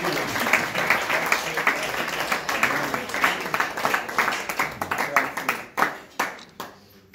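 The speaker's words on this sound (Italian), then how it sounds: "applauso" Audience at an award ceremony in Terni applauding, a close, lively burst of clapping that thins into scattered individual claps before dying out near the end.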